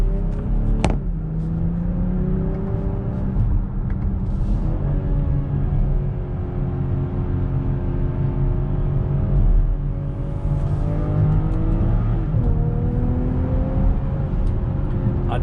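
A 2022 BMW X5 luxury SUV with an inline-six engine and 8-speed automatic pulls from the cabin while driving, its low engine hum rising and falling through gear changes, with steady road rumble underneath throughout.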